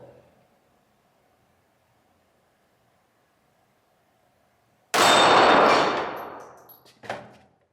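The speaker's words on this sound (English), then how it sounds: "Let's try to shoot that white little pedal." A single sharp, loud shot from a Kel Tec P3AT .380 micro compact pistol cracks out after several seconds of near silence, followed by a quick decaying ring and a fainter metallic clink.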